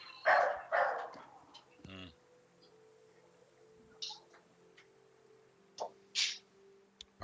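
Dogs bark in a few loud, close bursts at the start, then sporadic sharper yaps later, over a quiet indoor room with a faint low hum while trick-or-treaters arrive.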